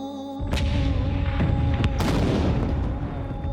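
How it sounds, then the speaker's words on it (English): Massed battery of heavy cannons firing: a series of deep booming blasts, loud and rumbling, with several sharp reports overlapping into a sustained roar that slowly fades. "a massed battery of more than 30 heavy cannons opened fire"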